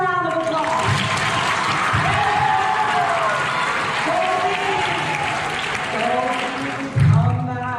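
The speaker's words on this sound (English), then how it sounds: "Give them a round of applause." Sustained applause from an audience, dense and steady clapping with a few cheers rising through it.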